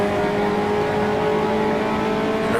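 A 1955 Formula One race car engine in Grand Prix Legends drones steadily at high revs, a constant buzzing whine heard up close from the cockpit, heavy with fuel on the French Grand Prix circuit.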